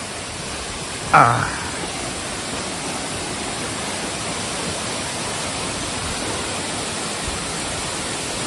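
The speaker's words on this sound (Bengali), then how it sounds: "ঝর্নার আওয়াজটা বেশ শোনা যাচ্ছে" A jungle waterfall, Bonga Kocha in Jharkhand, roars with a steady, dense rush of falling water that fills the whole clip, broken only by a brief knock near the start.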